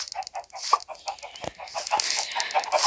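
Busy, rapid clucking from several chickens in a video game, short overlapping calls with a slightly synthetic, game-like quality, fairly loud and close.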